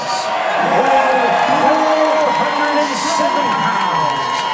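Wrestling event crowd cheering for wrestler Moose's entrance, loud sustained cheers and whoops under an announcer's voice.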